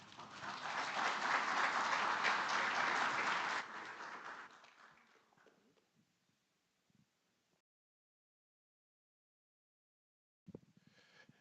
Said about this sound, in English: Can we please give him a big round of applause one more time?